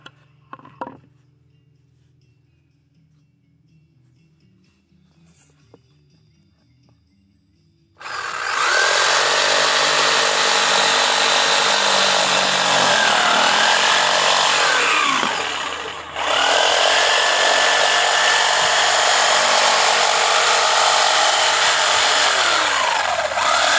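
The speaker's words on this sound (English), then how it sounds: "So I can set this camera up where I can show some skills on my jigsaw." A jigsaw cuts through a scrap piece of wood with a loud, steady buzzing rasp that starts after several seconds of near quiet, breaks off briefly partway through, then resumes to the end.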